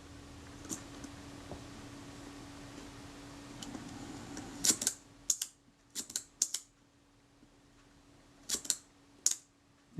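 A Synchro Compur leaf shutter from a Kodak Retina IIIc camera fires at slow speeds such as 1/15 and 1/8, giving several sharp close mechanical clicks in small clusters over a quiet background.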